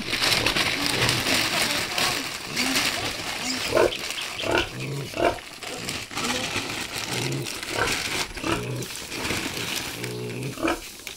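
A pet pig grunts and squeals almost without pause, loud and close, over a busy, noisy background.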